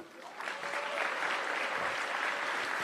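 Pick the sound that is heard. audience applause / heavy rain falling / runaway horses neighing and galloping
audience applause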